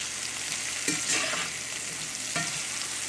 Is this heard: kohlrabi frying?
yes